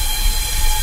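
A passenger train rolls along with a steady, loud rumble and rattle heard from inside a coach, continuous with no pauses.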